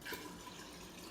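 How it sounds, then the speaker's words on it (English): Tap water runs steadily from a kitchen faucet, a constant hissing splash that is faint and continuous with no talking. "I just use normal tap water"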